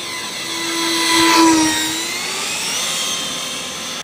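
A 70mm ducted-fan RC F/A-18 jet makes a loud, shrill turbine-like whine that swells as it passes close, then eases to a steady distant roar.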